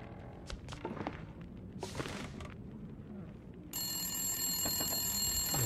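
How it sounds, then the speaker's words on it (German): A telephone rings in the survival video game The Long Dark, a repeated electronic bell tone that starts partway through and continues steadily, heard over quiet ambient noise and scattered thumps like footsteps. "Wo ist denn das Telefon? Also von der Geräuschkulisse würde ich mal sagen, müsste das eigentlich hier sein."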